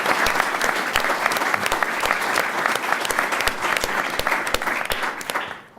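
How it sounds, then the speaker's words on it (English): Conference audience at a policy event applauding, a dense, sustained wash of clapping with individual sharp claps standing out, steady and fairly close until it tapers off at the end. "let's give a round of applause for Dan."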